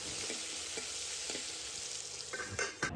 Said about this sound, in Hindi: दाल में तड़का लगाया है मैंने